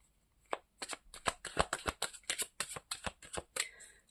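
Tarot cards are shuffled up close in a quick, uneven run of soft papery taps and riffles, fairly quiet and with no voices.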